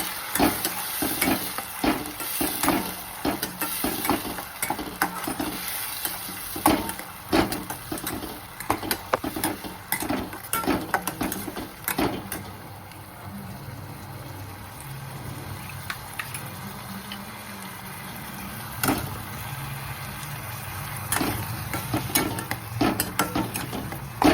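Onions frying in a pan with tomato puree stirred in for a dhaba-style masala bhindi, a steady close sizzle with frequent scraping stir strokes, easing slightly midway before picking up again.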